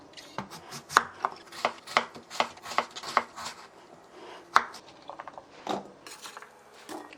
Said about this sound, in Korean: 깍두기를 잘게 썰어서 절여주고 시작할 거예요